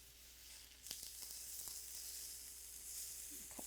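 Pieces of fish cooked with a tiny bit of oil brown in a pan, giving a steady, faint sizzle with a few small pops and clicks.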